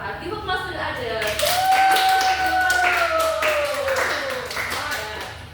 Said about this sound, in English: Give applause to the Ajeng.